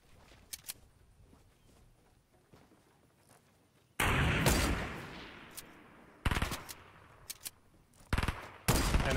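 Gunfire in the video game Fortnite, including sniper shots: a few sharp cracks, then loud, abrupt bursts that cut in and out with short gaps between them.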